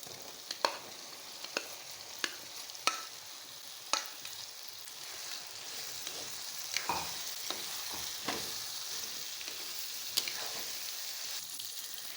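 Okra goes into a pan of fried spice masala, giving a steady sizzle of frying with sharp clacks of a spoon stirring against the pan at irregular intervals.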